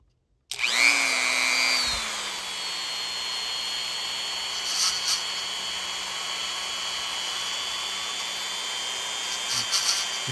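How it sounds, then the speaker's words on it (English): A small Dremel rotary tool with a sanding attachment whirs up to a steady high-pitched spin, grinding lightly with occasional scraping changes as it cleans model train wheels close by. "the last thing I want to do is clean those wheels, and I use my Dremel tool."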